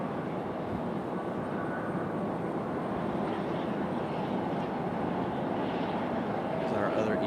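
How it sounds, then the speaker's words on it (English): A small executive jet arriving at Raleigh-Durham International Airport, its engines a steady, loud roar that fills the whole stretch while a person talks over it. "Got a little exec jet coming in here in front of us."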